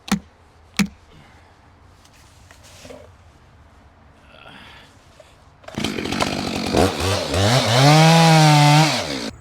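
A chainsaw bucks a tree log into firewood: a couple of sharp knocks and quiet moments come first, then the saw starts loud and close, its engine pitch rising and dipping as it cuts.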